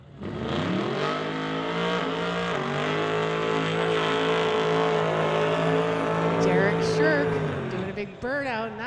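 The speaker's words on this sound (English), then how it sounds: "Big burnout in that cool vehicle" A street-legal drag racing car doing a burnout at a drag strip, with a loud sustained engine roar held at high revs for several seconds before easing off, while a voice talks over the end.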